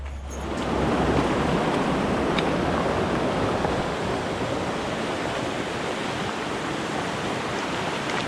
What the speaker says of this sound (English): And now we're coming down the Rocky River Trail to the big river crossing.